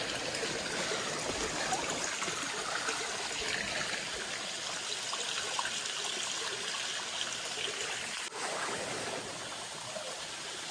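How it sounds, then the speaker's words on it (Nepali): A mountain stream rushes along beside a steep hillside trail, giving a steady, fairly even wash of flowing water that fills the whole stretch without a break and with no voices over it. "मन पर्छ नि मलाई खोलाको यस्तो आवाजहरू"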